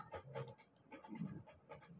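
Winter, a male Shih Tzu, pants rapidly and rhythmically nearby, with soft breathy huffs repeating steadily and no voices.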